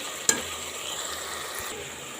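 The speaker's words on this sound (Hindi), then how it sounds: "अच्छे से भून लेंगे, 2 से 3 मिनट इसको भून लेते हैं।" Minced keema with dried plums frying in a pan and being stirred, a steady soft sizzle with one sharp scrape of the spoon near the start and another light clatter later.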